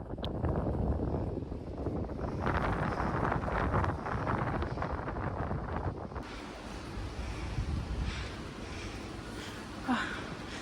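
Strong wind buffets the microphone high on Mount Kinabalu in bad weather, a steady loud roar of gusts that shifts in tone midway, with faint voices.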